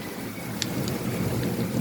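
Steady rain pounding a balcony on an outdoor downpour, a dense continuous hiss with a few brief sharper drips, fairly close and even in loudness throughout.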